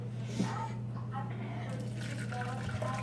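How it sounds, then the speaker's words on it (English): Liquid poured into a small sieve strainer in a kitchen, a quiet steady trickling and splashing stream, faint and mixed with a low background hum and speech. "Now what I'm going to do is I'm going to pour it in my little sieve here, my strainer."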